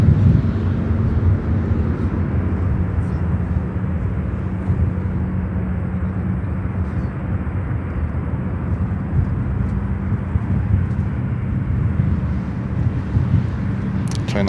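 Boeing 777 airliner on runway 9 right at O'Hare airport, a steady distant jet roar with broad rumble and wind noise throughout, no talk.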